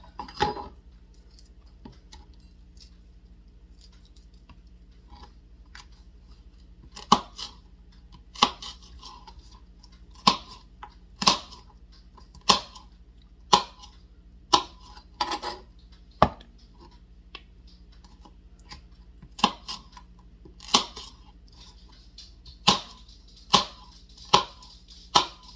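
A slightly dull kitchen knife chopping peppers for a blackeye pea salad, with sharp, separate cuts against a board arriving at an uneven pace, growing more frequent in the second half, close and distinct over a quiet room.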